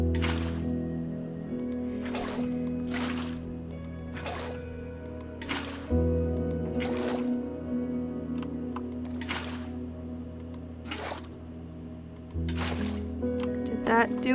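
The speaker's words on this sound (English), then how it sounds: "We're just going to add in water source blocks till there's no more current." Water source blocks are placed in Minecraft, a series of soft wet splashing pops at irregular intervals over a steady game background hum, with a voice talking throughout.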